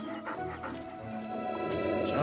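A dog whimpers and gives small yips, quiet and close, over a low background hum with faint bits of voice.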